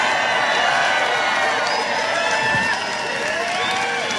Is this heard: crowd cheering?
yes